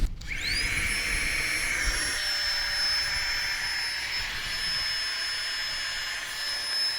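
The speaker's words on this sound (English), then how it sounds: "Do you know what I noticed with this little pump? Is that it's a lot quieter than the other one that I had" Small electric pump inflating a sleeping mat, starting with a rising whine that settles into a steady high-pitched hum, close and fairly quiet, running alone without talk.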